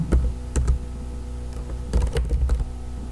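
Typing on a computer keyboard during flyer design in Photoshop: close, irregular clicking keystrokes in small clusters with short gaps, over a low steady background hum.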